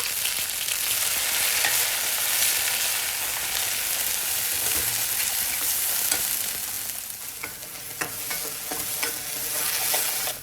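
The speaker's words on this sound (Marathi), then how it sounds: "कढीपत्तो बघा मस्त तेलामध्ये तळतळलो" Curry leaves and chutney fry in hot oil for a Malvani fish curry, giving a loud, steady sizzle close up, with stirring scrapes and crackles growing busier toward the end.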